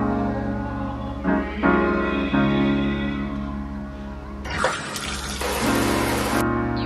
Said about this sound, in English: So I'm about to shower.